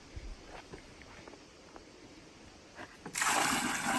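Fertilizer water poured into a potted plum tree's pot, with a few quiet bumps and trickles before a sudden loud, steady splashing pour in the final second, close by, no talking.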